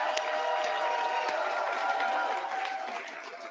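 Applause and cheering from a crowd celebrating election campaign volunteers in Saanich Gulf Islands, Canada, steady and dense throughout, fading slightly toward the end.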